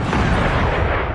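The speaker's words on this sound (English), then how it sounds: "See, those were big explosions." Loud, deep booming explosions from the Dragon Age Inquisition video game, a dense rumbling blast filling the brief moment with heavy low-end roar and no speech.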